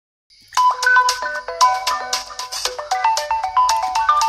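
A mobile phone ringtone plays for an incoming call, a bright repeating electronic melody that starts abruptly and stays loud and steady with no talking over it.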